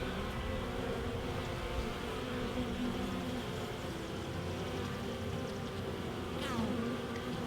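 Honey bees buzz inside a hive where comb is being built out, a dense, steady, close drone of many insects with no break and no talk.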